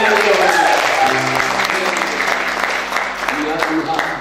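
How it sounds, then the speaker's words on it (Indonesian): A church congregation bursts into loud applause for God during an Indonesian service, a dense crowd of clapping hands up close that gradually thins, with a voice heard alongside. "Kurang meriah untuk tepuk tangan bagi Tuhan."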